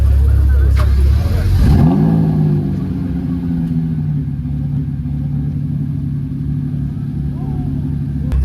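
A Lamborghini Diablo Evolution GTR V12 fires up with a loud rumbling burst, then settles into a steady, throaty idle with a rising and falling rev, close by, while people talk around it.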